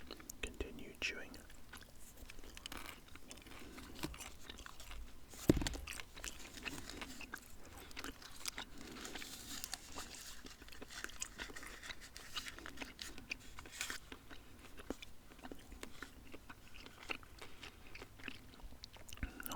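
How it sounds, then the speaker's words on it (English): Gum is chewed right up against the microphone in soft, wet, continuous mouth clicks, very close and quiet, with faint whispering throughout. "pop that piece in my mouth as well and continue chewing."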